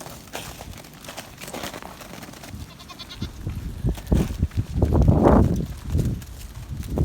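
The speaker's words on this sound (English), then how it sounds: "The goats must want you to see them. They're all making noise." A barnyard herd of Nigerian dwarf goats with a pygmy goat or two bleats on a cold morning after an ice storm, with several calls overlapping over scuffling and rustling and rising louder toward the end.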